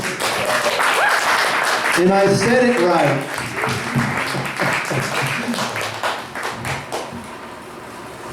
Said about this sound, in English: Let's all give a big round of applause for Ron Giles.